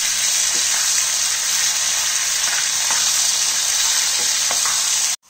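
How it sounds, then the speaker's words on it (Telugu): Onions and tomatoes fry in a pan for a capsicum masala curry, giving a steady, loud, close sizzle with occasional stirring scrapes before the sound cuts off abruptly near the end. "తర్వాత రెండు ఉల్లి టమాటాలు వేసేసి"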